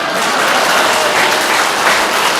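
Dense, sustained applause from an audience at a Korean political party gathering, loud and close, a continuous wash of clapping with no pauses and no clear voices.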